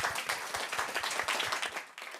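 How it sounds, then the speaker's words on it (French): Audience applause in a French studio discussion programme, a brief burst of scattered clapping of moderate loudness that fades out toward the end, with no talk over it. "On vous applaudit."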